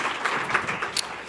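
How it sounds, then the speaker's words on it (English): An audience at a lunch plenary session of a summit applauds to thank an honored guest, producing a steady wash of clapping at moderate volume with no talk over it. "Give him a round of applause."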